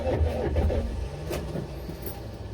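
A weak starter cranks a cold 5.7 diesel Buick Electra engine that won't fire, making a low, sluggish churning at close range that fades slightly without catching.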